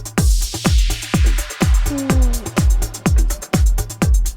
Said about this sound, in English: a loop that I created of 16 bars with an impact that goes down